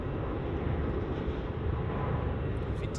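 A Jetstar Airbus A321 Classic taking off at Melbourne airport gives a steady, fairly faint jet engine roar that stays broad and continuous for a few seconds, with no voices.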